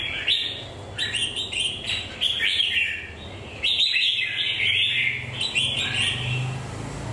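A red-whiskered bulbul sings in clear, bright bursts of chirping phrases, several repeated song bursts close to the microphone with short pauses between, no voices.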